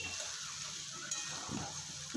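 Sliced onions with a pinch of sugar sizzle in a hot pan while cooking a fish curry, a soft continuous crackle with occasional stirring scrapes and no talking.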